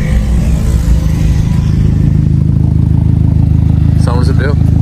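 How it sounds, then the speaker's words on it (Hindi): Suzuki Jimny running without an exhaust, a loud, steady low engine drone while driving, with a brief higher sound near the end. "मैं बिना एग्जॉस्ट के मजे लेता हूँ जिमनी के। शोर मचाती हुई जाती है भाई"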